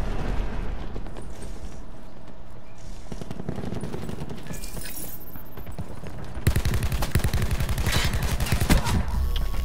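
Rapid gunfire from the Annihilator weapon in Black Ops 4 video game combat, a loud sustained burst of shots dominating the second half after quieter game sounds.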